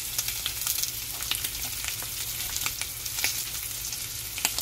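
A three-pound tomahawk ribeye steak sizzles in a pan over low heat, producing a continuous close crackle of fat with sharp pops throughout and no speech.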